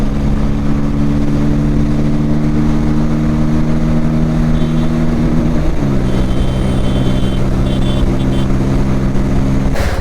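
Several Yamaha R15 V4 motorcycles idle and rumble nearby as riders gather, a steady low engine drone with a pitch shift midway and faint higher whine toward the end; no talking.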